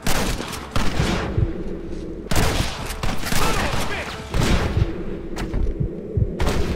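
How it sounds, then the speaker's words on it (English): Rapid gunfire from a shootout in the Western video game Red Dead Redemption, repeated loud bursts and cracks stacked close together over a low hum, with short lulls between volleys. "Get ready to hold off their fire, Marston."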